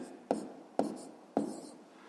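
Three short scratchy strokes of a pen writing numbers on paper during a sixth-grade math exercise, each stroke close and quiet, spaced about half a second apart.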